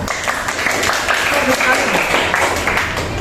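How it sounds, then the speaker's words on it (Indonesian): Classroom applause after a student presentation, a steady dense patter of many hands clapping at close range for a few seconds, with faint voices mixed underneath. "Tepuk tangan dulu dong."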